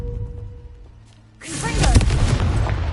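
A fire spell bursts out in a fantasy video game battle: after a quiet lead-in, a sudden roaring whoosh of flame erupts and keeps crackling loudly to the end.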